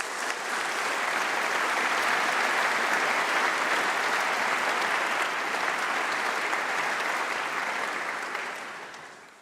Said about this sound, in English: I want to applaud all our PhD students who've graduated today.